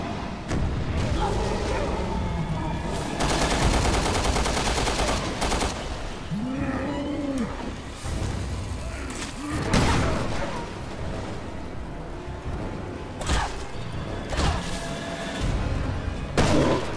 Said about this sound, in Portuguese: eu tive que usar um tiro aqui